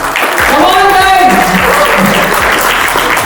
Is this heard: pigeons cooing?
no